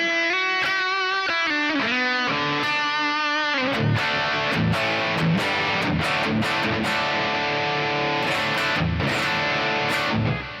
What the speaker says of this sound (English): sound 3 is my my distortion lead sound